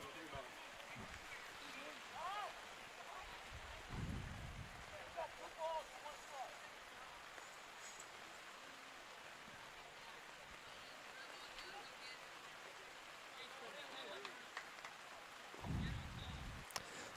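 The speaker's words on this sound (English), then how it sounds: "some pretty decent rain coming in right now." Fairly heavy rain falls on an outdoor baseball field during a game, a faint, steady wash of patter throughout, with talk and scattered crowd noise over it.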